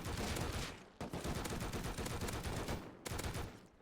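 Dense, sustained gunfire during a nighttime raid in Rust, a rapid rattling volley with brief breaks near one and three seconds, heard faintly at a distance with no voices.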